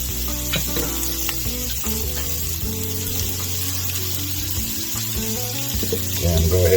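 Onions frying in a pan for Jack Daniels burgers, a steady close sizzle that holds throughout and swells louder near the end, with some clatter of kitchen handling over it.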